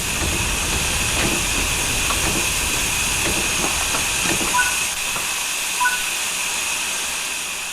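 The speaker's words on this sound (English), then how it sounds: "Use the combination brake to apply some braking force and bring the train to a stop." Steam locomotive in Train Sim World 5 easing to a stop under the combination brake, a steady loud hiss of steam and air over low rumbling wheel noise and faint clanks, with no voices.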